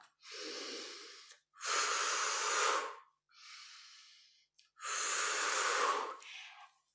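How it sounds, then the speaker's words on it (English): Slow, deliberate breaths during a yoga practice: airy inhales through the nose alternate with longer, louder exhales through the mouth, four clear breaths separated by short silences, close to the listener. "inhale through the nose and exhale through the mouth"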